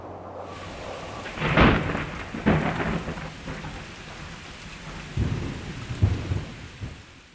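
Heavy tropical-storm rain pours steadily while several rolling thunder rumbles break through, the loudest near 1.6 and 2.5 seconds and more around 5 to 6 seconds, with no voices present.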